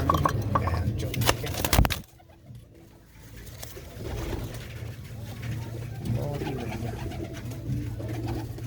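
A red pigeon with white eyes coos softly at close range, its low murmurs running beneath steady male conversation after a sharp clatter at the start.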